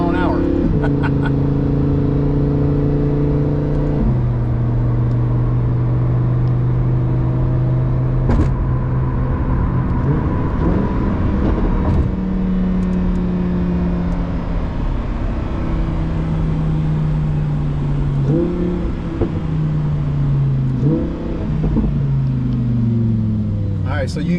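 A 2018 Lamborghini Huracan Performante drives along, its engine a steady loud drone that climbs and drops in pitch through the gear changes, with the cabin sound continuous throughout.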